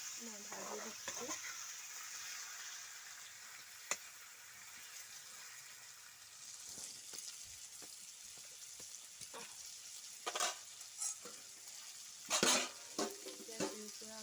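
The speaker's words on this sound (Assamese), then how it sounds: "এয়া মই ভাজি দিছোঁ।" Goat meat frying in a pan over a fire gives a faint, steady sizzle, broken by scraping stirs and light metal clinks that grow busier toward the end.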